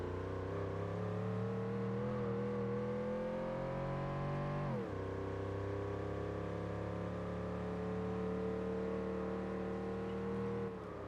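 A Mercedes engine in Gran Turismo 4 revs hard and steadily, its pitch climbing, then dropping sharply with a gear change before building again, loud and continuous with no voices.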